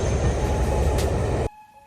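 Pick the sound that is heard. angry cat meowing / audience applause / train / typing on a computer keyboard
train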